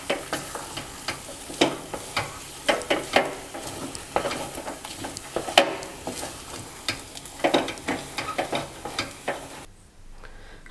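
Wheat-flour sheera is stirred in a pan with repeated scraping, rustling strokes that come in an uneven rhythm, close and fairly loud, before the sound cuts off abruptly near the end.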